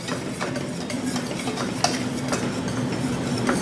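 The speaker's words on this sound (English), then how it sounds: "We'll whisk this in." A whisk works a thick seasoned sauce for langostino fettuccine in a pan, giving soft continuous scraping with light rhythmic taps and one sharper clink, alone and fairly quiet.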